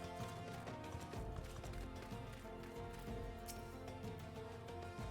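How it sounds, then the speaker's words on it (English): Horse hooves trotting in Final Fantasy XIV, a soft continuous clip-clop under game ambience and a music bed, quiet and steady with no talk. "Strolling through with her horse."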